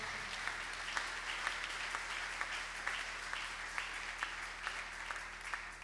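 A church congregation claps together in a steady rhythmic beat, soft and somewhat distant, the claps landing at an even pace over a faint room hum.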